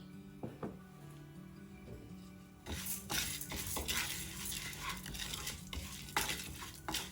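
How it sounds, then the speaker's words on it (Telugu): Half a cup of toor dal being roasted in half a spoon of hot oil in a pan: a spoon stirs and scrapes the lentils with quick rattling clinks and a soft sizzle, close and busy, getting louder partway through. "ఆయిల్ వేడయ్యాక ఒక 1/2 కప్పు కందిపప్పు వేసి వేయించుకోవాలి"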